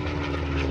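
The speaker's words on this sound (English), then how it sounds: "Ralph Moore in the number three position for some three-ship formation aerobatics to almost round off the Spitfire finale" Spitfire warplanes in a three-ship aerobatic formation at an airshow, with a brief, loud, steady piston-engine drone close overhead.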